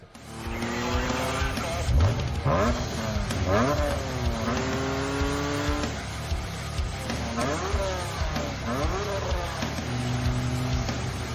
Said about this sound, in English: We still had Kolia in his BMW M3 E36 on the S50 B30.